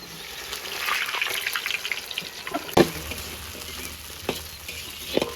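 Food sizzles and crackles in a little oil during a village-style beef tetelan lodeh cook, a steady hiss with a few sharp spatters and stirring clatters, close and fairly quiet.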